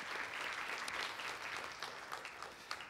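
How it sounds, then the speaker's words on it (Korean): Audience applause at a tech conference opening session in Korea, steady crowd clapping heard fairly faintly and at a distance through the whole stretch. "박수 부탁드리겠습니다"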